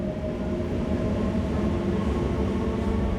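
A MEMU express train on the Bhimavaram Junction to Machilipatnam route runs steadily just after leaving a station, with a continuous low rumble and drone heard from inside the carriage and no talk.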